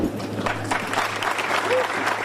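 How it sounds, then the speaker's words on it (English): Department of Justice employees applaud Jeff Sessions as he walks out of the Justice Department building for the last time: a steady, moderately loud wash of clapping from a group, with a voice speaking over it. "employees at the Department of Justice applauded Sessions as he walked out of the Justice Department building for the last time"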